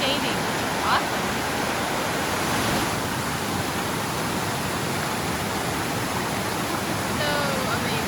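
A cascading waterfall on a short hiking trail gives a steady, full roar of rushing water, close and even throughout, with no talk over it.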